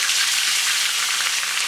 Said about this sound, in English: So it's frying like that.